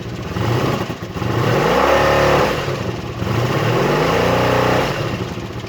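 A cold engine with valves needing adjustment revs up twice toward the red line, each rev swelling into a loud, rising roar before easing back, close by with no voices.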